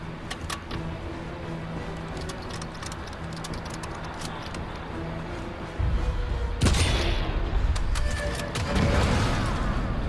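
A toppled V2 rocket crashes onto a target and explodes in Sniper Elite 5, a sudden loud burst of broadband noise breaking over a steady game ambience, followed by rumbling debris.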